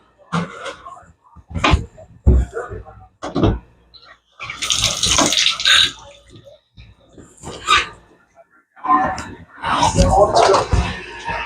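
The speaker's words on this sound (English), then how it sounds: "Turn the water on." Tap water gushes from a fill hose into an aquarium in bursts, loud and splashy, broken by pauses and handling knocks.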